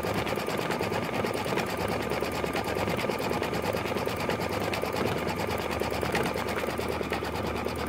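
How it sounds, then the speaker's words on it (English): A Brother embroidery machine stitches across underlay stitches, a loud, close, continuous rapid needle rattle with a steady mechanical rhythm running throughout. "There's that underlayment stitches that we talked about. And now it's stitching across them."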